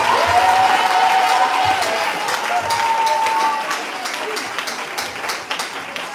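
A church congregation bursts into sustained applause and cheering for the Lord Jesus Christ, a dense wash of clapping and voices that holds steady at full strength, then thins slightly toward the end.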